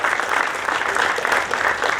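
An audience at a Hindi poetry gathering (kavi sammelan) applauds loudly to welcome a poet onto the stage, a thick, steady wash of many hands clapping at once.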